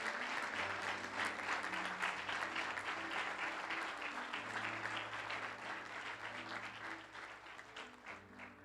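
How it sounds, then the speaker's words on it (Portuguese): Steady, full applause from a church congregation, sustained clapping with a low hum underneath that fades slightly toward the end. "Aplauda ao Senhor Jesus pela vida do Murilo e da Marcela"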